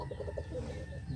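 Bombay pigeons, including a big male, coo in a short run of soft, low, rounded pulses close by, with steady background hum and no talk.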